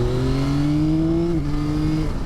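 A Yamaha XSR900 GP motorcycle engine revs steadily with a low, grunty tone, its pitch climbing slowly before dipping and holding, loud and close throughout with no talking.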